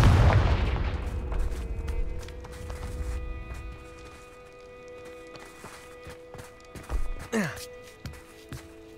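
A Confringo blasting spell goes off in Hogwarts Legacy, a loud booming explosion at the start that rolls away into quieter game ambience with light footstep-like steps and a later whooshing effect.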